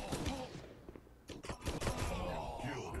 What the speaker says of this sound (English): Why would you throw a grenade at me, dude?